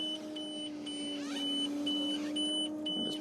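Repeated electronic beeps from a tractor seed drill signalling a full hopper, sounding as steady intermittent tones over a continuous engine hum in a field.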